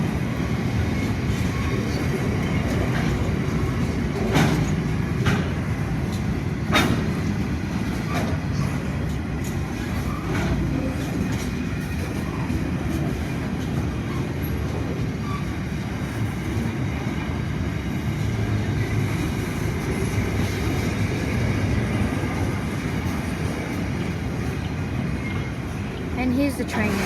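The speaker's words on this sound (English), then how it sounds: "And the train end is in the distance." A very long freight train rumbles past in the distance at Unanderra, a steady low drone of rolling wagons that holds evenly throughout with faint clanks rising now and then.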